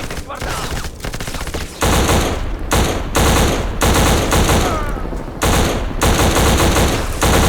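Heavy automatic gunfire from an Xbox shooter game rattles in loud, sustained bursts with brief gaps between them, close and dense throughout.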